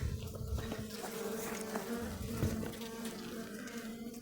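Honey bees hum in a dense, continuous buzz close by, a loud droning swarm without pause.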